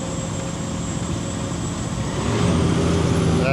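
A rig-moving truck on an oilfield move in Alberta grinds along under a steady, loud engine drone, its note rising and thickening as it shifts gears partway through.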